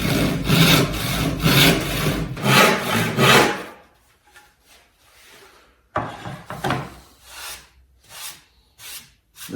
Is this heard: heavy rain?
no